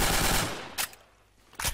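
The Triple R, a BioShock Infinite weapon in Garry's Mod, fires a sustained rapid burst, then two short sharp shots follow after a brief pause.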